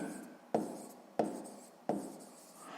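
Pen or pencil writing down a math solution, three quick scratching strokes at an even pace, close and quiet.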